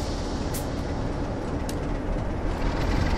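Rolling train in Train Simulator 2018 pulling away once the brakes come off, a steady broadband rumble and hum with faint high hisses, continuous and fairly loud, no voices.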